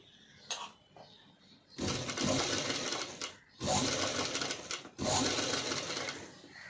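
A sewing machine stitches piping onto a padded blouse in three sustained runs of fast, loud needle clatter, each followed by a short stop, heard up close.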